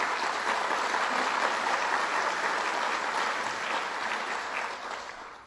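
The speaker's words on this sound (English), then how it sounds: "Bob Duffy, give him a round of applause again" A crowd at Genesee Community College claps in sustained applause, dense and even, fading slightly toward the end.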